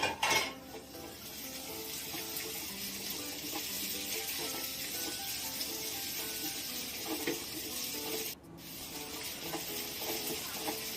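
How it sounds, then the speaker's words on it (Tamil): Tomatoes, coriander and a green chili sautéed and stirred for a beetroot gravy, a steady soft sizzle with faint scraping of a spoon against the pan throughout, one brief break near the end. "சேர்த்துட்டு நல்லா வதக்கி விட்டுக்கலாம்"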